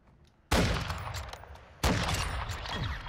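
Gunfire in Call of Duty: Modern Warfare II, two sudden loud bursts of sustained automatic fire a little over a second apart, each trailing into a dense rattling roar with no talk over it.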